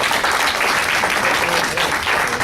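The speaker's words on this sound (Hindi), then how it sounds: "आप एक ताली बजाते बहुत जोर में" Loud, sustained applause from a mushaira audience fills the whole stretch, dense and steady without a break, honoring an acclaimed Urdu poet at the gathering.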